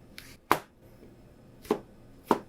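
Knife trimming the tough base of a large mushroom stem on a cutting board, three sharp, separate cuts spaced unevenly, close and clear in an otherwise quiet room, with no talking.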